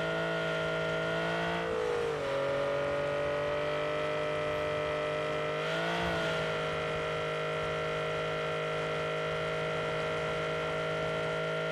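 A car in PUBG: Battlegrounds drives with a steady, droning engine hum. The pitch dips and swells twice as it shifts or turns, then settles into a constant tone.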